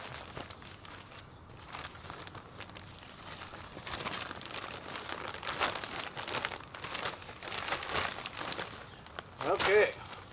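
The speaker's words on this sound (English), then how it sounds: "I'm going to go ahead and dump in about half a bag." Perlite pours out of a plastic bag into potting mix with a long crinkling, rustling rush of loose granules and bag crumpling, close up and building louder toward the end, with a voice talking underneath.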